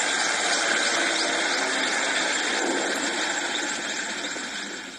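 Two firefighting helicopters fly over a wildfire on a ridgeline near Agios Nikolaos, giving a steady, loud rotor and engine roar that stays constant and fades slightly at the end, with no talking.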